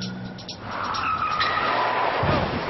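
A car braking hard on a driving course, with a loud sustained tire squeal and skid that builds and holds for a couple of seconds, with engine noise underneath.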